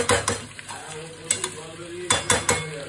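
Meat with onion and spice paste sautéing in a pot: a constant sizzle under repeated sharp scraping and clanking strokes of a spoon against the pot, coming in quick clusters.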